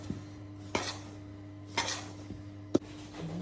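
A spoon stirring ricciarelli dough in a small bowl, giving three distinct scraping knocks against the bowl at a slow, uneven pace, close and fairly quiet over a steady low hum.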